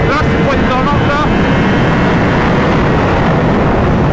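Honda CBR 600 RR sport motorcycle engine pulling hard on small roads, a loud, sustained high-revving roar filling the whole clip with wind noise, while a rider's voice speaks briefly at the start.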